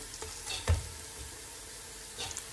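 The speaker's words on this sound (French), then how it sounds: "je vais venir poser mes morceaux de viande" Beef pieces floured with corn flour are set into a hot pot for a beef and Jerusalem artichoke stew, giving soft sizzling frying with a few light clunks as pieces land.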